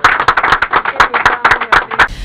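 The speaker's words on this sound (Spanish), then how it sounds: "Un aplauso" Close, loud clapping in a quick, fairly even rhythm, sounding like a small group applauding briefly at a wedding show.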